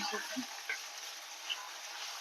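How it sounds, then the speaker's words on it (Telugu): Cumin, mustard seeds and dried red chillies sizzle steadily in hot oil for a tempering, a soft continuous hiss with faint crackles. "జీలకర్ర ఆవాలు వేసేస్తున్నా తర్వాత ఎండుమిర్చి మిరపకాయ"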